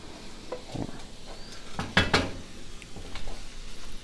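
Mushroom duxelles being stirred in a high-sided pan, with soft scraping and a few sharp clinks of a utensil against the pan over a faint sizzle, close and steady.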